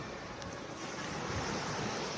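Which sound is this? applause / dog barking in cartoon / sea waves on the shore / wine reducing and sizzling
sea waves on the shore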